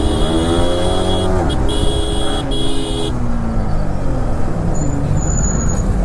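Dense night road traffic in Surat heard from a Kawasaki Z900 motorbike: a steady roar of engines close by, a long horn blast and a couple of short toots, with faint voices under the din.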